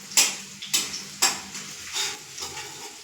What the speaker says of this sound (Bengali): এবার আমি আলুটাকে ভেজে নিচ্ছি।